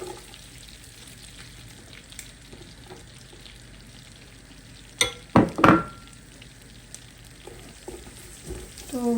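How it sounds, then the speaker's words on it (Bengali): Chopped garlic dropped into melted butter in a hot pot, with a soft steady frying hiss and a burst of loud clatter and sizzle midway. "এখন আমি দিয়ে দিব রসুন কুচি।"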